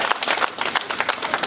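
Audience applause at a car giveaway reveal event for a genuine 1970 Challenger Hemi: brisk, rapid clapping from a crowd, moderately loud and steady throughout the short burst, with faint voices mixed in.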